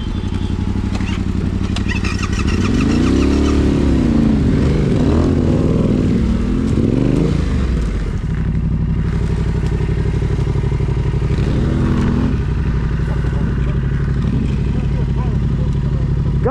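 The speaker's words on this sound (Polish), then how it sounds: "No to po prostu motor" A motorcycle engine idles and revs up and down nearby, rumbling steadily throughout, with some clattering and thumps and voices talking over it.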